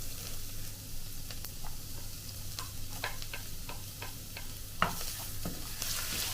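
Garlic and ginger sauté in oil in a pan for a Kerala-style side dish. A quiet, steady sizzle runs under scattered light ticks and scrapes from stirring, with one sharper knock near the end and no voices.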